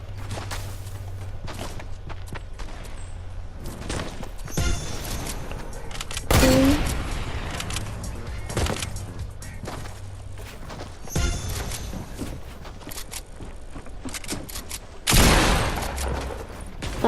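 Hunting rifle shots in a battle royale video game, heard as several loud, sharp blasts spaced seconds apart over a steady in-game background with faint movement sounds.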